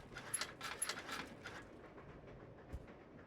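A train rolls along in the Resident Evil Zero video game, a faint mechanical rattle with light clinking and a soft low thump, heard alone without talk.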